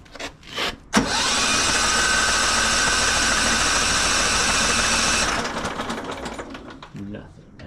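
Case 220 garden tractor engine being turned over, a steady loud cranking drone that starts abruptly, runs for about four seconds, then fades to quieter mechanical noises.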